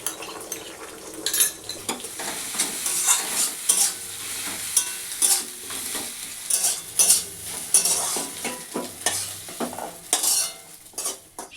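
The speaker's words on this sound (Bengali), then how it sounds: "পেঁয়াজ, তেল, ডিমটাকে ভেজে নেব।" An egg fries with onion in mustard oil, giving a constant close sizzle broken by frequent metal-spatula scrapes and clinks against the pan in an uneven stirring rhythm.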